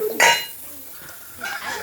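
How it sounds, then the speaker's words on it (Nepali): Clattering of dishes and pans being thrown about, a sharp clang followed by lighter clinks a moment later, close by. "भाँडा नफाल त, मावलको भाँडा फाल्न हुन्न"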